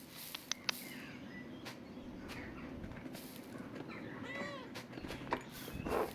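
A cat meows amid steady ambient background sound in the medieval-abbey video game Pentiment, a few soft, faint, rising cries over the ambience with some light clicks, and nobody speaks.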